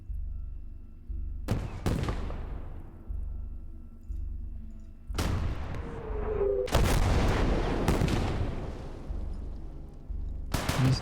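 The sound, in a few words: sniper rifle fire in Gates of Hell: Ostfront video game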